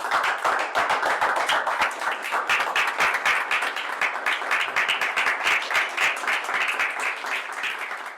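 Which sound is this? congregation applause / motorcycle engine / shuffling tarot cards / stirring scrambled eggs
congregation applause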